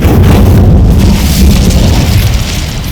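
The Incendio fire spell in the video game Hogwarts Legacy bursts out as a loud, booming blast of flame. The roaring rumble holds steady for about three seconds.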